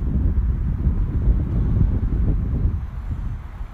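Outdoors during a drone flight, wind buffets the microphone in a steady low, rumbling roar for a few seconds, with no talking.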